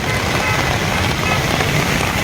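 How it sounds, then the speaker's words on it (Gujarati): Heavy downpour over the Singvada river in Kodinar town under dark clouds: a dense, loud, unbroken hiss of rain striking water and surfaces, steady throughout with no voices. "અને નદી પર પણ વરસાદ પડી રહ્યો હોય."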